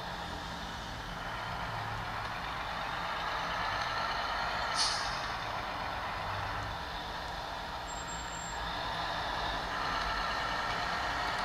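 A truck drives in a 3D truck simulator game, with a continuous engine drone throughout, a short sharp hiss partway through and a faint high beep later, and no talking.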